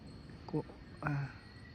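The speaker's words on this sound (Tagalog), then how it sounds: "naririnig nyo yung mga, ang tawag dyan, basta yun, yung mga insekto na yan" Night insects, apparently crickets, drone steadily and faintly in Tagaytay, with two brief voice-like sounds breaking in over the insect noise.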